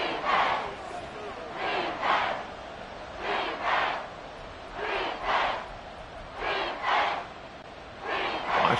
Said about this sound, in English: Washington crowd calling on the defense to come up with a big one here.